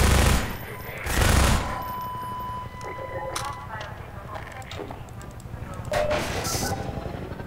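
Gunfire in the video game Half-Life 2 cracks out in several loud shots mixed with game effects, while people talk over the action throughout.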